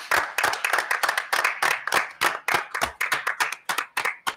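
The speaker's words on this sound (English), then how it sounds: "I'd like to give them another round of applause." Audience at a Woonsocket school committee meeting claps for culinary students from the career and technical center, a loud, steady round of applause with distinct hand claps and no talking.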